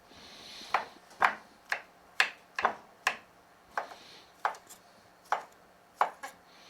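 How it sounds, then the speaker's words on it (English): Knife chopping mushroom stems on a board for stuffed mushrooms, about a dozen sharp, evenly spaced taps at a steady unhurried rhythm, close and clear with no talking. "you want to chop these mushroom stems"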